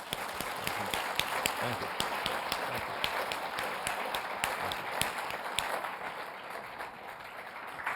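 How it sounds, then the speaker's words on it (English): An audience applauds two judges after a conversation on the judiciary, with steady clapping throughout and distinct sharp claps close by. A brief spoken thanks comes through over the applause. "I hope that everybody will join me in giving a round of applause to our two judges."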